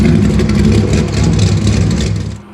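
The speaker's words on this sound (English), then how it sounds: "it's because this Corvette's really loud" A loud, throaty Corvette engine revs steadily up close for a couple of seconds, then the roar drops off sharply at the end.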